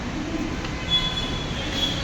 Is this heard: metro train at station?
yes